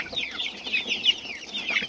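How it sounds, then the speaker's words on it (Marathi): Repeated soft clucking from a free-range village hen, a string of short, high-pitched calls in a steady rhythm, close by with faint background noise. "एक आपल्या याच्यात गावरानी कोंबडी आहे"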